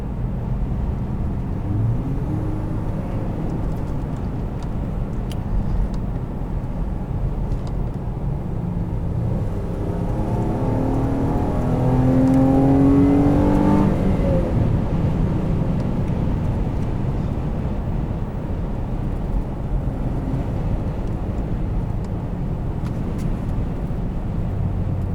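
A 2016 Ram 1500 pickup's V6 engine droning steadily from inside the cab, rising briefly in pitch as it accelerates, with road and wind noise underneath.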